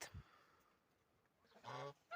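Domestic geese on a farm honk faintly in the distance, a brief nasal call near the start and a louder honking burst toward the end over quiet outdoor background.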